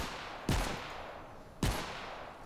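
Two sharp, loud gunshots ring out about a second apart in Fortnite Save the World, each with a brief decaying tail and quiet between them.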